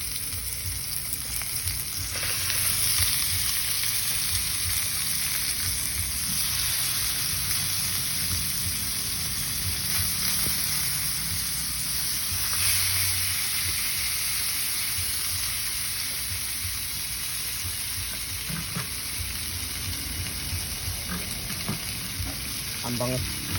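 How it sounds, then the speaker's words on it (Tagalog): Food for grilling is laid onto a hot grill, raising a dense, steady sizzle that runs close and continuous, with occasional faint clatter and a murmur of voices in the background. "ilalagay na natin yung ating iihawin"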